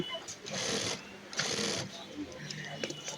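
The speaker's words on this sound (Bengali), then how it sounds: "অর্থাৎ ইনসাইড সেলাই করতেছি।" A sewing machine stitches a 1.25-inch inside seam on palazzo pants in two close, whirring runs with a short pause between them, while a voice talks over it.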